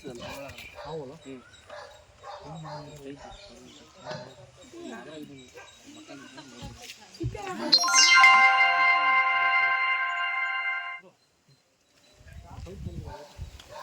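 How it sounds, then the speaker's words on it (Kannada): A mobile phone ringtone plays for about three seconds as a steady, loud electronic tone. It interrupts people talking, with a dog barking and whimpering nearby, and the talk resumes after a short pause. "ನೋಡಮ್ಮ ಫೋನ್"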